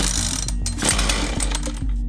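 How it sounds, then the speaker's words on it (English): A chainsaw engine turns over with a rapid rough mechanical clatter and sputtering beats after the starter rope is pulled, loud and close with no talk. "Pull the rope repeatedly and with force until the engine fires."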